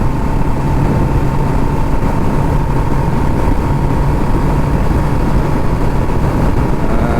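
A 2024 Kawasaki ZX10R sport motorcycle engine running while ridden, a steady, even drone with a faint constant hum and no clear revving changes, heard alone without talk.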